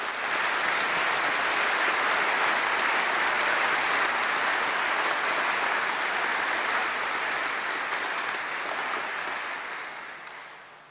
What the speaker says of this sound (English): So a big round of applause for those that have helped you.